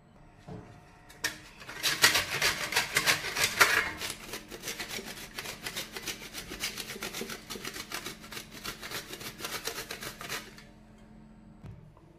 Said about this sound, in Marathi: खोबरे आता किसून घेतलेलं आहे मी